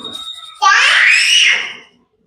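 A small child lets out a loud, shrill sustained scream lasting about a second, close and piercing, after some quieter background noise, then fading to silence.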